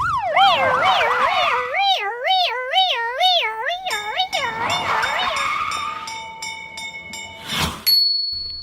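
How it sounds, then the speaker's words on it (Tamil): Toy police jeep and fire engine sirens wail together in a children's cartoon, loud warbling tones rising and falling steadily up close, then ending in a sharp burst and a lingering single tone. "போலீஸ் ஜீப்பும் தீயணைப்பு வண்டியும்."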